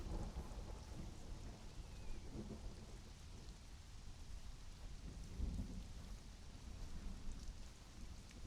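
Steady rain with low rumbling thunder in the video game Conan Exiles, a continuous broad wash of sound with no talk.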